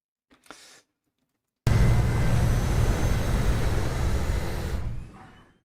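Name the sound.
airplane taking off, sound for video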